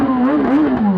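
A motorcycle engine revs loudly up close, a steady buzzing drone that rises and dips slightly over a second, no talk.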